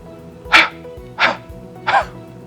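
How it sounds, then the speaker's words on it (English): Three forceful breathy huffs from a huff breathing exercise, evenly spaced about a second apart, close and clear against a faint background hum. "We're going to do that huff sound 3 times in a row."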